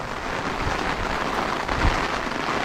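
Torrential rain pours down on a narrow footpath in Nagasaki, Kyushu, during a stormy downpour. It makes a loud, dense, unbroken hiss with a few heavier splattering surges, and no voices are heard.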